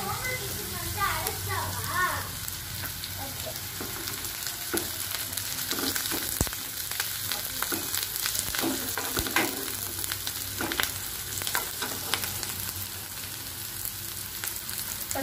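Curry leaves hit hot oil for a Telugu-style potato fry, giving a dense, continuous sizzle with sharp crackling pops and occasional stirring clatter, loud and close throughout with some faint voice underneath.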